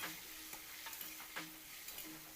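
Tomatoes with turmeric powder sauté in oil in a pan for an ash gourd dish, a faint, continuous sizzle with soft, regular stirring scrapes and no talking.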